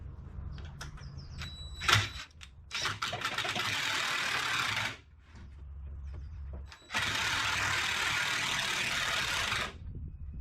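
A power drill drives a screw into a wooden garden gate on a raised bed garden, with bursts of whirring, a short pause and a second longer run, close and fairly loud.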